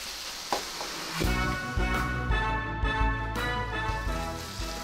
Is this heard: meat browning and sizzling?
yes